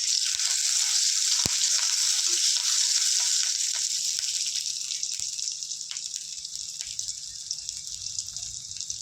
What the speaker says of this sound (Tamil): கொஞ்சம் கருவேப்பிலை கொடுக்குறேன் ரெண்டு காஞ்ச மிளகாய் கொடுக்குறேன்